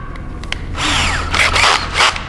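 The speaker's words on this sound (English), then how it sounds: "now I can get in there, drill my pilot holes" A power drill whirs in short bursts, revving up and biting into material while drilling pilot holes through a drill guide on an Airstream trailer, close and loud against a low background hum.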